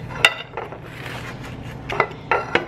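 A quesadilla cooks in a pan, marked by a few light clinks and scrapes of a utensil against the pan over a low kitchen background.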